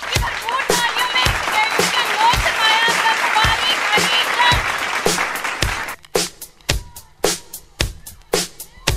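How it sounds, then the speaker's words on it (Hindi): An audience at a school results ceremony applauds loudly as the vice principal comes on stage. Dense, sustained clapping lasts several seconds, then thins to scattered individual claps. "so have a great clap for sir Mubarak Ali Shah on stage"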